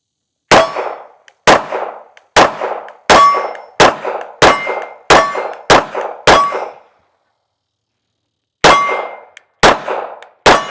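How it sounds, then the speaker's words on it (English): CZ P-09 C Nocturne pistol firing its first rounds at a range, with sharp loud reports in a steady string of about nine shots, a pause, then three more. "let's go shoot these first rounds."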